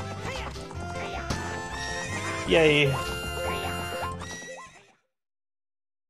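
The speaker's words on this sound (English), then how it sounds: "What's up with that horse? Is that Epona?" Epona, the horse in a Zelda video game, gives a loud, quavering whinny over the game's music, with hoof clip-clops nearby and a player's brief exclamation.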